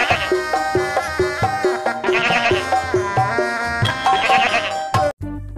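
Black Garut sheep bleat loudly and close by in a run of repeated, wavering calls with short pauses between them, and the sound stops abruptly near the end.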